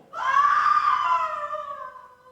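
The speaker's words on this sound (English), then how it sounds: "What's that noise? It is the cry of women" A wailing cry of women sounds as a stage sound effect in an amateur production of Macbeth, a single sustained high scream rising then slowly fading over about two seconds, fairly loud and without speech.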